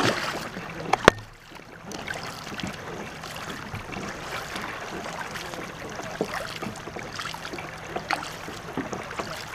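Crew paddling a war canoe during practice, repeated paddle strokes dipping and splashing through the water at an even rate over a steady water wash, with one sharp knock near the start.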